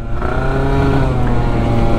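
A Yamaha Aerox scooter accelerates hard, its engine a loud, close, continuous buzzing drone with strong harmonics held steadily throughout, no talking.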